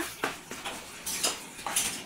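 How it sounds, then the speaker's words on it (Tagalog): A child washes plates, with faint scattered clinks and clatters of dishes and cutlery at a close distance and no talking. "ayan naman si Bunso, naghuhugas ng pinggan"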